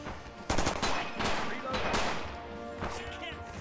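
Rapid automatic weapon fire rattling in bursts across a WWII Pacific battlefield in Red Orchestra 2: Rising Storm, loud close shots over a noisy combat backdrop, with a narrator talking over it.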